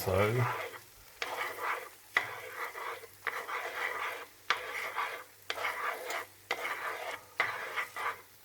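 A spatula scrapes and tosses Cantonese fried rice in a hot pan, making about seven rhythmic scraping strokes over a constant light sizzle, each stroke a short rasping burst.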